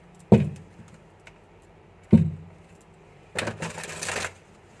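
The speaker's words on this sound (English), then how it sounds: "I'll just give it one last shuffle" Tarot cards being shuffled by hand, heard as two short sharp riffling bursts followed by a longer papery flutter of cards, close and fairly quiet with no talking.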